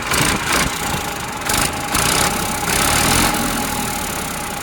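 A Massey tractor engine runs close and loud, its steady mechanical drone broken by a few short surges and dips in intensity, with no voices over it.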